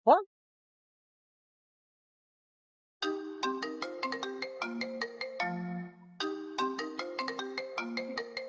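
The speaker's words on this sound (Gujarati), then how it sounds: "કમિશનર સાહેબ નો ફોન આવ્યો." A mobile phone ringtone plays for an incoming call, a loud, close melodic electronic tune with a bouncy repeating rhythm. It starts after a short blip and a few seconds of silence, and no voices are heard.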